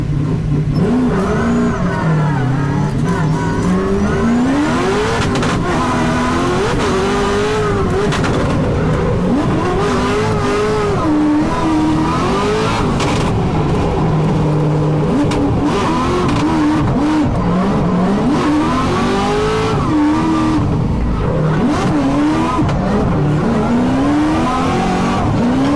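A 600-horsepower carbon-fibre Corvette C6 drift car screams through repeated revs and throttle swells at a pro drift competition, loud and sustained, with rising and falling engine pitch and occasional tire squeal.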